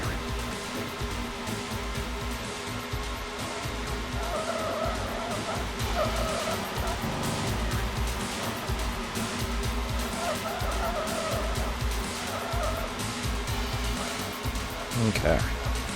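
In the PlayStation racing game 5 Star Racing, race car engines drone steadily with buzzy, synthetic revving and occasional tire squeals, while a voice talks over them throughout.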